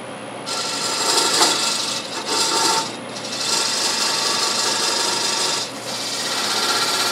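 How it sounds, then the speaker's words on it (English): A box scraper cuts into spinning cherry burl on a wood lathe, a loud, continuous rasping scrape with the motor's hum beneath it and a few brief changes in pressure. "I'm going to use a box scraper to come in there and go a little bit deeper."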